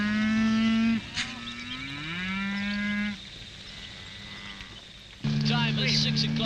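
Dairy cows on a Waikato farm low at dawn as they come in for milking: long, loud, sustained moos, one after another, with a brief gap and a final call, close and clear.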